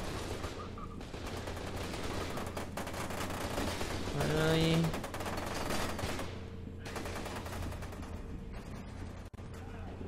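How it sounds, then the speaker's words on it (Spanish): Gunfire in the first-person shooter FEAR 2, a dense run of shots and bursts under game sounds and music, with a man briefly exclaiming over it. "Estoy escuchando muchos disparos."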